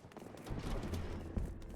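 Final Fantasy 14 fireworks crackle in a dense, continuous rattle of small pops, moderately loud and without speech.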